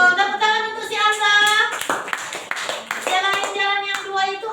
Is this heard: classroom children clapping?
yes